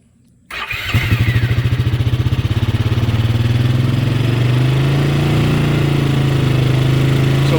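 A 2003 Bombardier Traxter 500 ATV engine cranks and catches with the choke on after a brief silence, then settles into a loud, close, pulsing idle that smooths to a steady drone.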